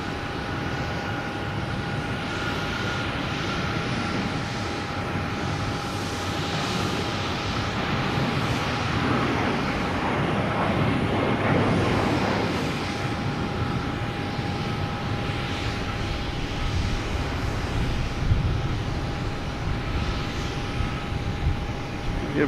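An Alaska Airlines jet airliner departs Boston Logan for Seattle, its engine roar a sustained broadband rumble with a steady tonal whine, swelling slightly toward the middle before settling, heard alone without talk.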